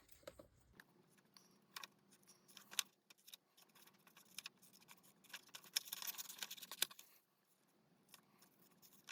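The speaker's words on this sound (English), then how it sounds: "Sometimes it's easier to cut all of one side and then come back the other way and cut all of the other side of the petals." Scissors snipping out paper flower petals for a collage, a series of quiet, close clicks and crisp cuts in irregular bursts, with paper rustling between them in a near-silent room.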